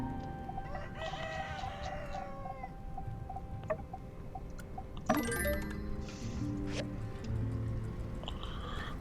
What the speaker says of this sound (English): I have never heard the rooster crow in this game.